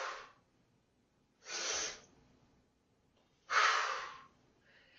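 During a breathing exercise, a person takes deep breaths that come as three loud, close, airy rushes, each under a second long, separated by quiet gaps.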